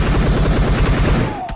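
Rapid automatic gunfire in the mobile battle royale game PUBG Mobile, a loud close burst of evenly spaced shots lasting over a second before a brief final crack.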